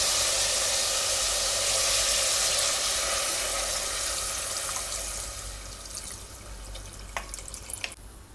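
A litre of water pours into a pot of mutton stew with turmeric and salt, a steady rushing splash that gradually thins out into a few final drips.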